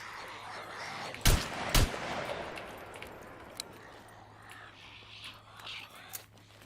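Two sharp, loud gunshots from a 5.56 NATO rifle in a video game, fired about half a second apart, then a quieter stretch with faint clicks and background noise.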